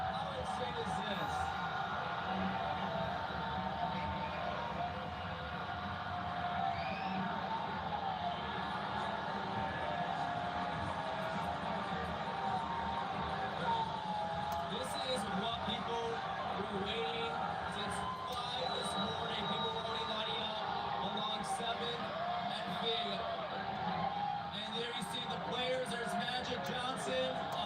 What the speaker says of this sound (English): You just hear this crowd. Hear the crowd.